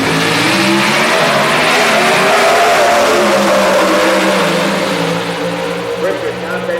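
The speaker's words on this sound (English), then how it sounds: "You could see a 670 pro stock run on this pair" Pro Stock drag cars launch down the strip during Friday pro qualifying at the NHRA Spring Nationals at Houston Raceway Park, with a loud, sustained, rising engine roar and a track announcer talking over it.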